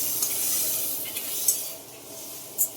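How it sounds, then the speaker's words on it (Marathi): A spoon stirs soybean chilli in a pan over a quiet sizzle, with a few sharp scrapes and clinks against the metal. It sounds close and fairly soft, and no one talks. "आणि हे मस्त असं हलवायचं"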